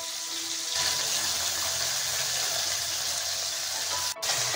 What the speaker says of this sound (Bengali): মাছগুলো এক পিঠ ভাজা হয়ে গেলে আরেক পিঠ উল্টে পাল্টে ভেজে নেব